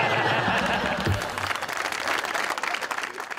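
Audience applause at a comedy performance, loud and dense, sustained throughout with a full crowd clapping and a faint voice underneath.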